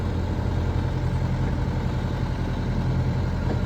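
A sailboat's engine drones steadily at low pitch while motoring into Camden harbor in October, loud and unbroken from start to finish with no talking.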